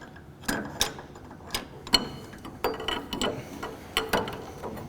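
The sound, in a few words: loosening sprocket lock nut with oil filter wrench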